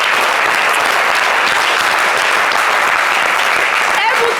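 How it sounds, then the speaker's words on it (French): A studio audience on a television set claps steadily, dense and loud throughout, with no break in the sound. "On peut les applaudir, s'il vous plaît."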